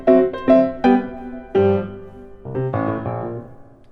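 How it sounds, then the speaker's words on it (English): Solo piano playing the Super Mario Brothers main theme, crisp staccato notes in short bouncy bursts followed by a few sustained chords, close and clear with no voices. "the main theme of Super Mario Brothers sounds like this"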